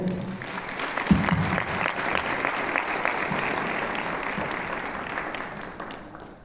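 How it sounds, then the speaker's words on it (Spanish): An audience at a conference talk on tax administration applauds, a loud, sustained ovation of many hands clapping for several seconds and slowly fading. "Un fuerte aplauso, por favor."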